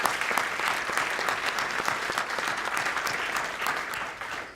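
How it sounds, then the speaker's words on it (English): Sustained audience applause at an award ceremony honoring a couple's philanthropy, dense steady clapping with no talk over it, tapering off slightly at the end. "How about a round of applause for that?"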